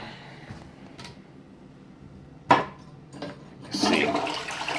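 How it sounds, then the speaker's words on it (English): A hotel bathroom toilet at an inn in Daly City, California, flushes with a sudden gush and then a sustained rushing of water, up close in a small tiled room, with a few knocks and handling sounds before it. "Got a toilet."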